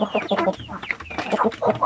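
RTL Basilan chickens cluck busily nearby, a dense overlapping stream of short clucks and squawks from several hens at once.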